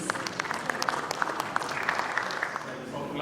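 An audience at a publishing industry event applauds as panelists come on stage, steady dense clapping from a moderately distant crowd with no voices.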